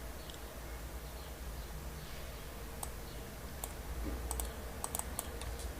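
Soft keyboard clicks from typing on a computer keyboard during a 3D modeling session, scattered taps arriving in short bursts against a low steady background hum, fairly quiet and close.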